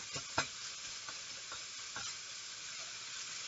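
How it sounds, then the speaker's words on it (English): Sausage browning and being broken up with a utensil in a frying pan for a sausage, egg, cheese and grits casserole, a steady close sizzle with a few sharp scraping clacks near the start and scattered softer scrapes after. "it's cooking up really well. Browning nicely. And we're just kind of chopping it"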